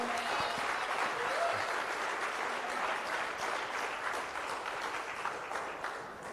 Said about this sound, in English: One more time, ladies and gentlemen, a round of applause for Masego.